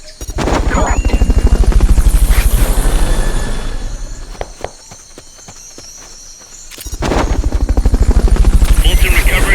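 Fulton recovery helicopter in the video game Metal Gear Solid Peace Walker, a loud rhythmic rotor thump that fades down mid-clip and swells back up near the end, with sharp impacts and game sounds in between.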